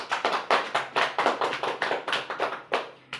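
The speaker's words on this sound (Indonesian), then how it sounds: "marilah kita tepuk tangan semuanya untuk yang sudah tampil" Students in a classroom clap together for classmates after their group presentation, a quick run of distinct, fairly close handclaps in uneven groups, with no talking.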